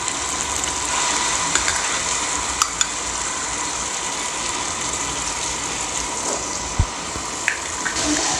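Tomatoes fry in a pan with a steady, soft hiss and sizzle, with a few faint clicks and knocks over it and no talking.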